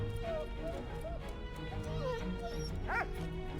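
A dog barks and yips a few times in the World War I video game Valiant Hearts, short sharp calls over background game music, faint and close, with a whimper near the end.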